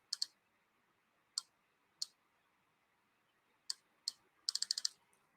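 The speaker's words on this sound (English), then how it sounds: "And you can also add some text." Crisp key clicks on a computer keyboard as text is typed: a few sparse, isolated presses, then a quick burst of several keystrokes near the end, with quiet room tone in between.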